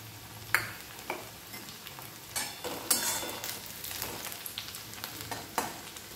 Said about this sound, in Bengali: এবারে এগুলো একটু লাল লাল করে ভেজে নেব